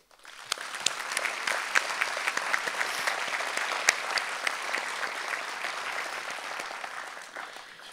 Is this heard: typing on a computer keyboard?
no